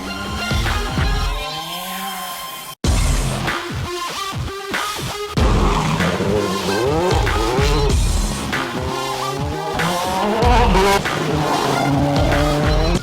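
A Toyota Yaris rally car drives hard, its engine revving and shifting up and down while tires squeal and skid through bends, loud and close throughout.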